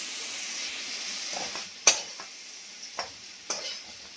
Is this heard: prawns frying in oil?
yes